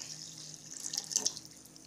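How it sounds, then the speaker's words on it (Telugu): Water is poured into a mixer jar as a short, quiet trickling and splashing that swells in the middle and fades, heard alone. "హాఫ్ లీటర్ వాటర్ వేసుకోవాలి."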